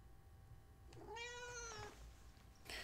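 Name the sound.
pet cat meowing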